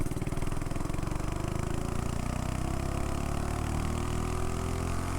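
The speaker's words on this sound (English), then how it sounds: "I probably shouldn't hold a wide open throttle for so long because I have a stock flywheel and a stock connecting rod" A mini bike engine with a stock flywheel and connecting rod held at wide open throttle, a loud continuous high buzzing drone with steady pitch close by, no talk.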